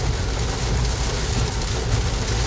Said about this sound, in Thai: it's raining pretty hard at the moment